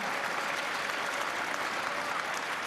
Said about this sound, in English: The German teammates applaud